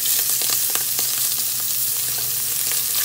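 Scallops sear loudly in a very hot pan, a dense, steady sizzle and crackle with scattered sharp pops throughout, close and continuous with no talking.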